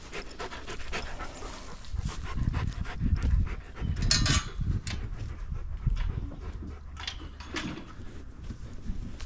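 A farm dog on a goat homestead pants rapidly and rhythmically close by, a continuous breathy huffing with occasional shuffling and knocks.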